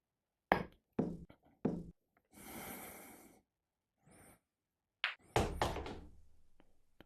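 Pool balls knock sharply against each other and thud into table cushions during a side-spin shot, a series of close, crisp clacks with a rolling rumble between them and no talking.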